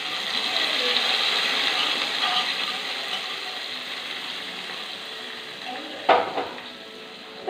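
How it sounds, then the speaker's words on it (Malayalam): Curry leaves, onion and chilli fried in oil for an Angamaly raw mango curry, giving a steady hiss of sizzling that fades slightly, then a sudden louder splash-and-crackle near the end as the tempering is poured in. "കറിവേപ്പില ഉള്ളി മുളക് നന്നായിട്ട് മൂത്ത് നമുക്ക് കറിക്കകത്തേക്ക് ഒഴിച്ച് കൊടുക്കാം"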